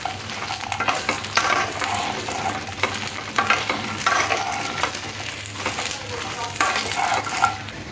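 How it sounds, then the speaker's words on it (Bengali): Jujubes (kul) frying with chili in a pan, a steady close sizzle with frequent stirring scrapes and small clatters throughout, no talking. "কুলগুলো এইভাবে আস্তে আস্তে করে ভালোভাবে ভাজতে হবে।"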